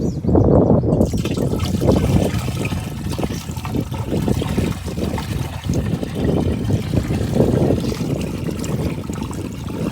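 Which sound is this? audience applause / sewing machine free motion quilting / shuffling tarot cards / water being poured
water being poured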